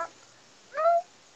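A house cat on a bed gives a single short, faint meow, close by, in an otherwise quiet room.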